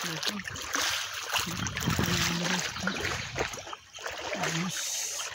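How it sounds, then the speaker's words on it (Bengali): Floodwater running along a flooded village road, a steady rushing and trickling wash with occasional splashes, close and continuous throughout. "এখানে পানি দিয়ে আসতেছে"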